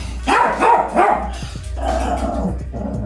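A dog barks close and loud, a quick cluster of three barks followed by a couple of lower, gruffer barks with a slight growl, with no talking.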